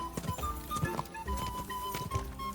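A horse gallops in Kingdom Come: Deliverance II with quick, rhythmic hoofbeats under a sustained tonal game sound, fairly loud and close, with no talking.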